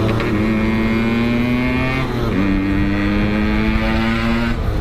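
A Suzuki Shogun motorcycle accelerates in third gear, with a loud, close engine drone rising steadily in pitch and briefly dipping midway before climbing again, alone without talk.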